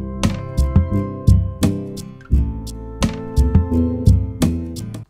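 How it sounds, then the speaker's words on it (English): An acoustic guitar strummed with a pick, about a dozen crisp down- and upstrokes in a loose rhythm, close and clear with no voices. "I'm gonna record some strumming using the pick here."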